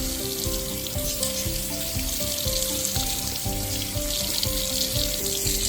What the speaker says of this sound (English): Yes, I'm watering my headphones.